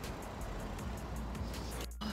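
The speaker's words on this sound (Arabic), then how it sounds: "حتى السيارة مفتوحة على مود التبريد" A parked car idles with its air conditioning running on cooling mode in very hot weather, giving a steady, even hum and blowing rush with a brief dip near the end.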